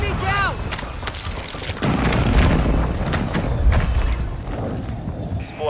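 Airstrike explosion in Modern Warfare 2, heavy deep booms rolling one after another with rumbling low-end impacts and debris, following a short radio-style voice at the start.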